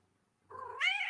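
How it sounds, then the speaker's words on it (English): A house cat gives one rising, drawn-out meow, close and clear, after a moment of quiet. "We got a talkative kitty this morning."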